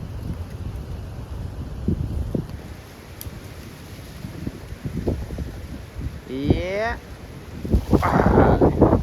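Strong wind blowing across a farm with mango trees, a continuous low rumbling buffet with gusts that swell toward the end, while a cow lows briefly and voices are heard in the background.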